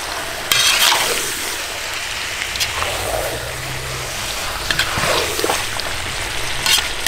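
Liver frying in a kazan over an outdoor campfire, a moderate sizzle with intermittent scraping stirs and soft clatters, steady and fairly close.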